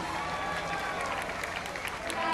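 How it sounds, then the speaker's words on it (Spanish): Audience applause at a Hispanic festival in Toronto, a steady dense wash of clapping and crowd noise with no clear break, mixed with background voices. "Aplauso."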